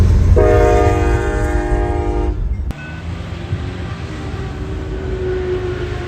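CSX freight train on the Louisville and Indiana mainline in Jeffersonville, Indiana, moving slowly past a crossing; a loud multi-tone horn blast sounds for about two seconds, then a steady low rumble of the rolling train continues.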